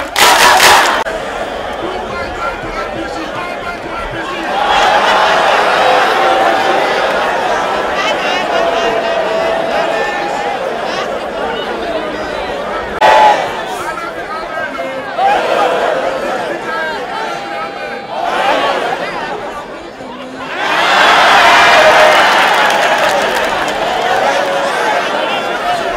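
A huge crowd at a political rally in Okene roars and cheers for Natasha, with loud, sustained crowd noise that swells in waves and blends with shouting voices and amplified speech.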